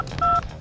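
Telephone keypad tones sound as a number is dialed, a couple of short steady beeps standing out over a low room hum, one longer tone in the middle and a brief one at the end.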